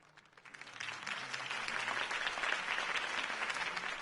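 A crowd breaks into applause at a political campaign rally in a Batman video game on PS4, beginning as scattered claps and quickly swelling into sustained, dense clapping heard at a distance.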